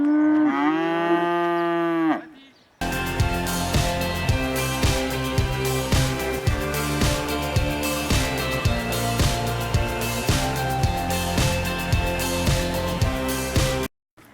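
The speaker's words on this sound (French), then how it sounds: "Le champ des vaches, là-bas." Cows low in a dairy farm field in spring, a first long moo close by, then many repeated moos from the herd over steady background noise, with no talk.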